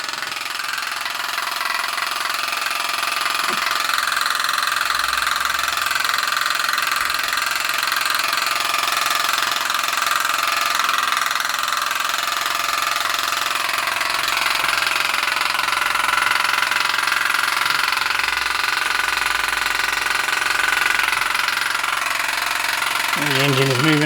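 A Mersey Model 51 model steam engine, heated by a dual wick burner, runs with a loose crank pin knocking in the conrod end, giving a loud, steady, close mechanical clatter that continues throughout.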